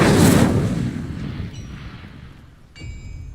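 Incendio fire spell cast in Hogwarts Legacy, a loud whooshing burst of flame at the start that fades into a dwindling roar, followed by a couple of faint chiming tones and a brief magical shimmer near the end.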